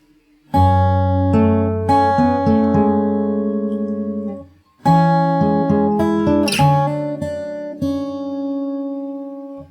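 An acoustic guitar is fingerpicked through a verse passage, sustained plucked chords in two phrases separated by a brief pause, played solo and up close.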